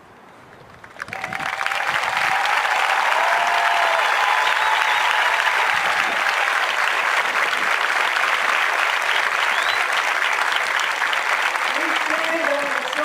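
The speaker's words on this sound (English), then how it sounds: "Let me keep the applause going here for a second." Crowd applause at a USAF Basic Military Training graduation ceremony swells in after a quiet second, then holds as loud, sustained clapping from a large audience, with a few faint voices and whistles mixed in.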